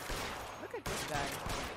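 Gunfire in the video game LA Noire: a dense burst of rapid shots with a sharp crack and whizzing ricochet partway through, loud and sustained over a noisy game backdrop.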